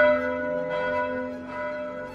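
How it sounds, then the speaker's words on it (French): Eleven colossal church bells of a basilica ring together, a loud sustained peal of overlapping, resonant tones that swell and hum on without pause. "à l'appel sacré des 11 cloches colossales de la basilique"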